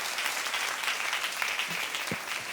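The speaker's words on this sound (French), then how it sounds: "Si vous applaudissez, applaudissez pour de vrai" Church congregation applauding at a French-language sermon, a steady dense wash of clapping filling the whole moment at moderate level, with no voices over it.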